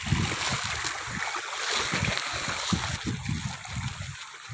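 Steady rushing river water with a broad hiss, flowing continuously outdoors at a waterfall in Rizal, with low rumbling underneath, no voices.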